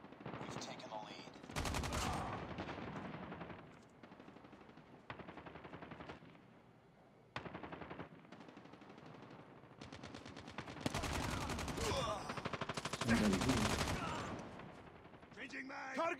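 Call of Duty gunfire on the Nuketown map: rapid automatic bursts and fusillades, loud and close, recurring through the clip, with a player talking over parts of it.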